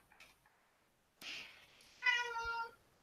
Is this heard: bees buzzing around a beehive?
no